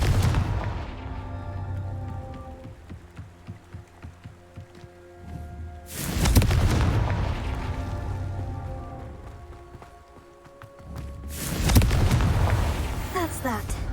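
Two heavy, booming blasts from the Confringo fire-curse spell in the Hogwarts Legacy video game erupt several seconds apart, each a loud, rumbling explosion that slowly fades over steady ambient background sound.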